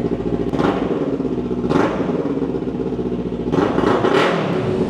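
A 2023 Kawasaki Z900 SE big bike fitted with a slip-on exhaust revs loudly and close by, its engine roaring steadily with three sharper throttle blips rising above the idle drone.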